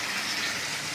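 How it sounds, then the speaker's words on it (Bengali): Water poured into a pot of meat and potato curry, a steady close gushing pour filling the whole moment without pause. "এবার জল দিয়ে দেবো মাংসটা আর আলুটা সেদ্ধ হওয়ার জন্য"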